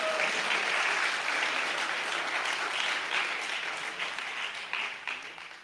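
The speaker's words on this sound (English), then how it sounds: "Big applause for Omai TV, ladies and gentlemen." Steady applause from a large audience in a theatre hall, loud and sustained, with dense clapping that gradually thins and fades toward the end.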